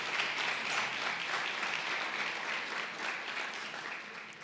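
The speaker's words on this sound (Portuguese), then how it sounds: "Uma salva de palmas" A church congregation gives a round of applause during a Portuguese-language service, a steady, fairly quiet patter of many hands that holds evenly throughout.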